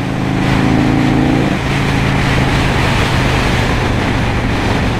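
A 1984 Harley-Davidson FLT Tour Glide ridden in fifth gear on the Belt Parkway, heard as a loud, continuous engine drone buried in heavy, steady wind rush, with no talking.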